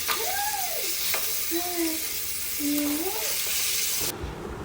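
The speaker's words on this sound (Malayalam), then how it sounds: "നമുക്ക് മീനും കൂടെ വറുക്കാം" Steady sizzling and crackling of fish frying in hot oil in a pan, with a few faint tonal sounds drifting over the hiss.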